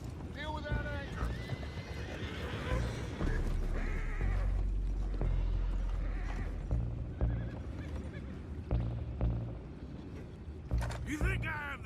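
Horses neigh and whinny repeatedly in Red Dead Redemption 2 with clip-clopping hooves and creaking, while voices talk over the busy scene.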